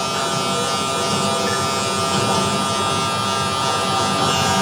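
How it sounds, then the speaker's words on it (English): Barber's electric hair clipper cutting hair, a steady close buzzing hum that holds unbroken throughout with no talk over it. "I'm dragging the heel of the clipper and I'm flicking up"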